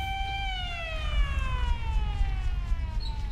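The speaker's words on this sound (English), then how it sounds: "What with the siren though?" A wailing siren in the video game Resident Evil: Revelations 2 sweeps downward in pitch with several bright harmonics, sounding fairly loud and continuous over a low rumbling background.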